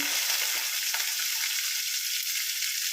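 Onions fry in hot oil for ajwain (vamu) rice, a close, steady bright sizzle and crackle with light stirring scrapes, no voices.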